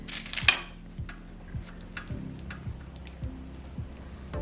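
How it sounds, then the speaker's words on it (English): Donut glaze stirred in a bowl, a spoon tapping and scraping the bowl in a steady rhythm of soft clinks about twice per second, close and alone. "Now let's try to stir this up a little bit more."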